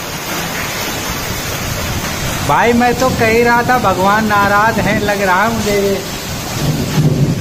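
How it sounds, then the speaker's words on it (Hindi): Strong storm winds with heavy rain, a loud, steady roar and rush of rain close by, while someone talks over it in Hindi for several seconds in the middle. "ये देखो कितनी तेज आंधी आ गई भाई साहब।"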